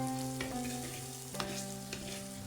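Onion and garlic frying in a pan, a steady close sizzle with a few scraping stirs, no talking.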